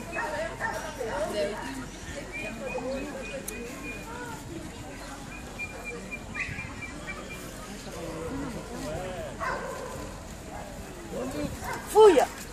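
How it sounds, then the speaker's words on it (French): A dog barks and yips in a busy, noisy scene, the calls brief and partly buried under ongoing talk and movement, with one sharp louder burst near the end. "Attention, le chien."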